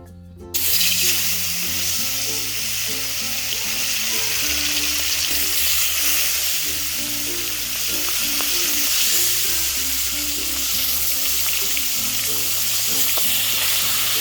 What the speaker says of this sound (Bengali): এরপরে একে একে মাছগুলোকে ওই তেলের মধ্যে দিয়ে দেব।